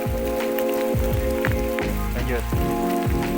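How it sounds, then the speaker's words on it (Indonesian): Heavy rain on the trail up Mount Slamet hisses steadily as a dense, constant patter, partly masked by rhythmic background music, with a brief spoken word. "hujannya gede banget"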